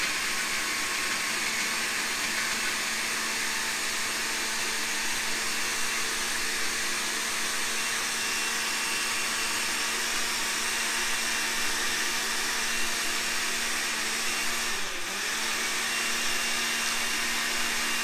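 A blender whirs continuously on raw broccoli and water for a smoothie, a loud steady motor drone with one brief dip in pitch as the load shifts partway through.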